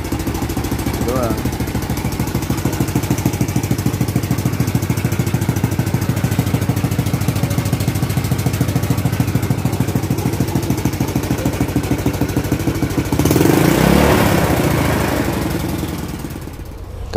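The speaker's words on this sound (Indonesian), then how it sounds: "dari suara nanti gue masukin ya videonya, suara motor awal-awalnya itu" A Honda Supra motorcycle engine runs with a steady, loud, rapid idle chug throughout, near and continuous, with a voice speaking briefly over it before a burst of broadband noise toward the end.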